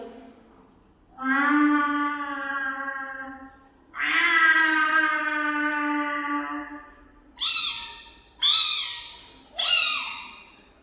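A voice imitates a cat and her kittens at a school talent competition: two long, drawn-out meows, then three short, rising kitten mews in quick succession, loud and close with no other sound.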